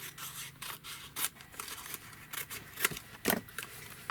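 Scissors cut off a paper pocket flap up close: a quick series of crisp, dry snips and rustles, each short and sharp, with no one speaking.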